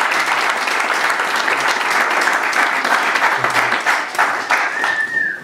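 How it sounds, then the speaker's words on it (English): Audience applause at a book launch, dense sustained clapping from a crowd that stays loud throughout and begins to thin near the end, with a faint voice at the close. "let's hear a little round of applause for that right now"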